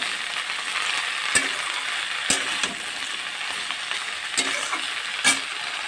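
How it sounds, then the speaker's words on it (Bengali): Steady oil sizzle of cauliflower florets frying in a pan, with a few scrapes and clacks of a spatula. "এ দেখো কপিটা ভাজা ভাজা হয়ে এসছে"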